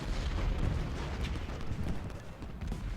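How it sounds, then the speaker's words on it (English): Artillery fire in the Ultimate General: Gettysburg Civil War strategy game, heard as a dense, continuous rumble of distant booms and gunfire with no clear separate shots. "now Scales is taking out this artillery."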